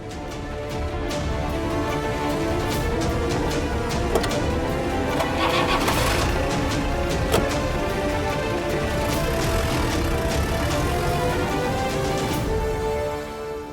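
A car engine cranks and catches, then runs steadily at a mid-pitched idle with slight revving, close and loud for the whole stretch, no voices over it.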